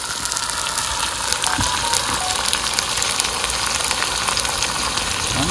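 Meat sizzling hard in hot oil with onion, ginger and garlic, a loud, dense, crackling fry that stays steady and close throughout, with occasional stirring and no voices.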